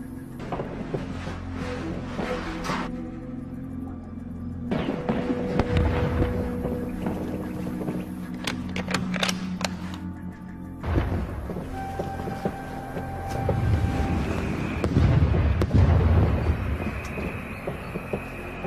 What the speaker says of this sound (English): Mortar's coming rather close.